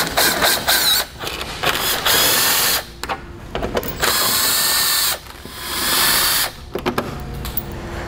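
A power tool spins out 10mm bolts from a 2016 Ford bumper, giving close, loud bursts of ratcheting whir separated by short pauses, several runs in a row with no talk.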